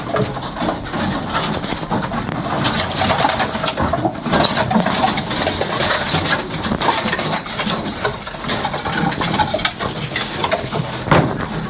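Pigeons in a loft coo and flutter amid a dense, steady wash of bird sounds and background noise, fairly loud and continuous.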